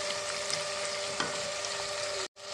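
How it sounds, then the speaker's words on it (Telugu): Onions with ginger garlic paste fry in a pan with a steady, close sizzle and light crackle throughout, cutting out briefly just before the end. "ఒక స్పూను అల్లం వెల్లుల్లి పేస్ట్ వేస్తున్నానండి ఇది కూడా మనం కొంచెం పచ్చివాసన పోయేదాకా మనం ఫ్రై చేద్దాం"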